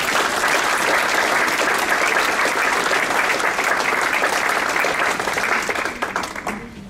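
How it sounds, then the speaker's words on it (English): Sustained audience applause fills a school district staff awards ceremony, steady and dense with many hands clapping close and loud, thinning slightly at the very end. "We'll give you one more applause"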